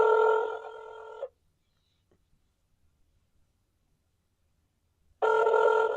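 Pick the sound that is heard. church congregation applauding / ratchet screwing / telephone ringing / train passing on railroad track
telephone ringing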